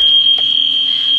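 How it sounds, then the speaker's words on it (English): A steady, piercing electronic alarm tone sounds continuously in a video game after an alarm is pressed, loud and unbroken, with a few faint clicks underneath. "Oh, he pressed an alarm."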